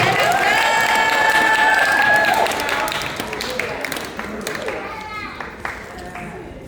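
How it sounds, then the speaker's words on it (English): Wedding guests at a blueberry barn reception clap and cheer loudly for a sibling about to give a toast, with whistles over the clapping before it fades into scattered claps and murmuring voices. "big round of applause for Nobel"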